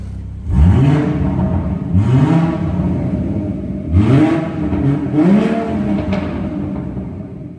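A BMW 440i fitted with the M Performance Power Pack and sound kit revs hard in four rising bursts, each swelling and falling back to a rumbling idle, loud and close with no voices.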